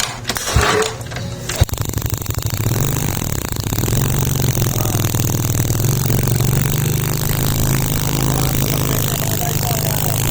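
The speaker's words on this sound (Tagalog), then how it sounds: "Umanda na nga po yung motor eh." SYM Bonus motorcycle with an electrical fault, its engine kicked into life after a clatter and then running at a steady, buzzing idle close by, with occasional voices.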